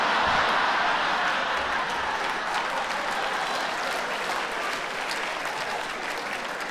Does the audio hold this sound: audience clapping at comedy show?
yes